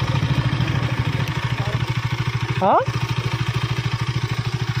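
Yamaha R15M motorcycle idling close by, a steady pulsing low chug repeating evenly throughout, briefly interrupted by a short spoken word.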